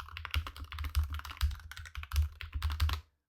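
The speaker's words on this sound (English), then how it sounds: "Okay, so there we go with the little keyboard test." Fast typing on a computer keyboard placed in front of a Razer Seiren V3 microphone during a recording test: close, crisp key clicks in quick irregular runs that stop abruptly.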